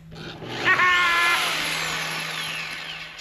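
A Vevor pipe grinder sands metal tubing in a shop, its whining motor rising sharply and then holding a steady, loud abrasive drone as the belt bites the tube.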